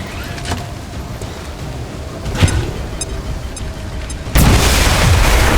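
A frag grenade explodes in the video game XCOM 2 as a deep boom under a constant rumbling battle bed, with a sharp crack midway and a louder roaring surge near the end.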